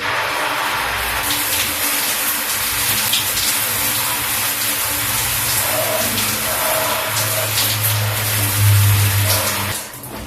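Water runs steadily while shampoo is rinsed out of hair, a continuous close splashing gush with soft shifting textures and no speech.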